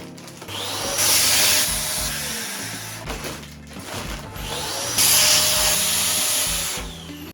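A vacuum pump draws air out of storage bags being packed for a move, running in two loud bursts separated by a quieter stretch with rustling and handling sounds.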